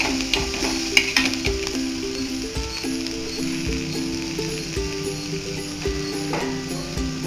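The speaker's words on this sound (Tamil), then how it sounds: "இந்த வெங்காயம் கொஞ்சம் பொன்னிறமா வர வரைக்கும் நல்லா" Onions sauté in a pan until golden, giving a steady soft sizzle with light scraping and clinking stirs throughout, close and moderately quiet with no voices.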